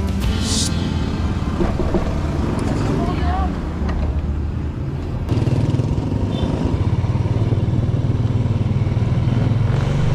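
A motorcycle engine runs steadily nearby, with wind and road noise; a brief burst of talk is heard early, and the engine grows louder halfway through.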